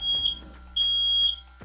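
A ceiling smoke alarm set off by fog from a PMI Smoke Genie handheld fog and haze machine gives three piercing high beeps, short, long, then short, in a quiet room.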